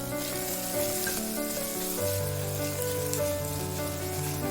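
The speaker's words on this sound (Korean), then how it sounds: "식용유를 넉넉히 넣고 파를 넣고 파기름을 내고 양파를 넣고 볶아줍니다." Onions stir-frying in scallion oil with plenty of cooking oil, a steady close sizzle like rain on a surface, with background music tones playing throughout.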